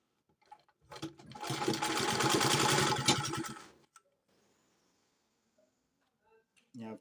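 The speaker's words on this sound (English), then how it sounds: "You're sewing the tip just to keep it from flying." A sewing machine stitches the tip of a trouser pocket in one short burst of close, rapid whirring lasting a few seconds, followed by quiet handling noises and a brief voice at the end.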